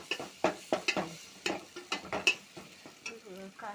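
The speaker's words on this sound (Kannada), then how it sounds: "ಟಮಾಟ ಕುದಿಯಾಕೈತೆ ನೋಡ್ರಿ." A tomato mixture bubbles and fries in a pan while a spoon stirs it, giving close, irregular scraping knocks and clatter over a soft simmering hiss.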